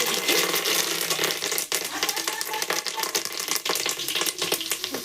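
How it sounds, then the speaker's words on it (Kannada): Spices sizzle hard in hot ghee for a khara pongal tempering: cinnamon, cloves, cardamom, curry leaves and chillies crackle in a loud, continuous frying hiss with occasional stirring rattles. "ಈ ಒಂಚೂರು ಫ್ರೈ ಆಗ್ಬೇಕ್ರಿ ರೀ ಚಂದಗೆ ನೀವು ತುಪ್ಪದೊಳಗೆ"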